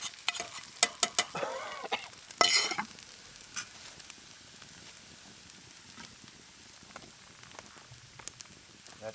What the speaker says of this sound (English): It's really nice being able to use metal in these pans